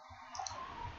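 Faint computer mouse clicks, a couple of quiet close taps over a low steady room hum.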